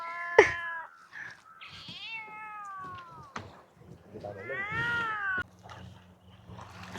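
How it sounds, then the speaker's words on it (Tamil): At a Jaffna fish landing, a cat waiting to eat fish meows several times in rising and falling cries, close and fairly loud, with some background voices and a low hum. "பூனை வந்து மீன் சாப்பிட்றதுக்கு வெயிட் பண்ணி கொண்டிருக்கு"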